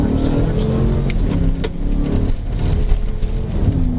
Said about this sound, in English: the rider slowly rolled forward, turned onto a side street, and then suddenly accelerated